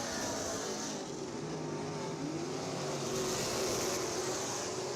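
Modified race cars roar around Ocala Speedway, a steady, distant engine drone with rising and falling revving tones as cars pass, under a broad wash of track noise.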